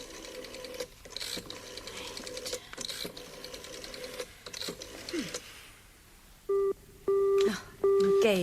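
A busy signal sounds near the end: a few short, steady electronic tones pulsing on and off after a stretch of whirring noise.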